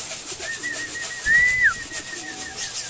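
Racing pigeons cooing softly amid low ambient noise, with a brief whistle-like sweep in the middle.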